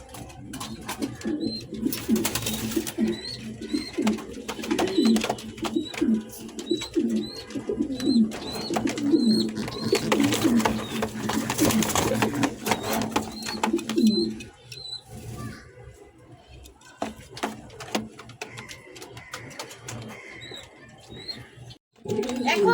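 A yellow pair of fancy pigeons cooing in short repeated calls over a busy, noisy background, clearer in the first half, then quieter with sparse coos and rustling.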